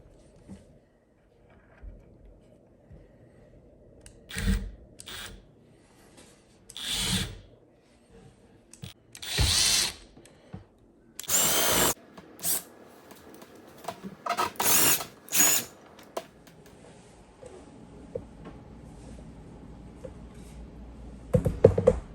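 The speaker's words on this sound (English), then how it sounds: "I'm gonna just screw it in." A power drill driving screws into a broken chair frame being reupholstered, a series of short separate whirring bursts spread across a quiet stretch, near and moderately loud, with faint handling noise between them.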